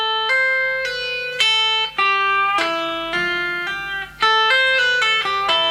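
Short legato sequence on electric guitar, clean-toned notes flowing in quick connected groups that repeat several times, played alone and close.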